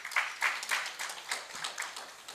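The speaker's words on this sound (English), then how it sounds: "let's welcome them all with a huge round of applause." Sustained applause from a conference audience welcoming panelists, steady clapping with no voices over it.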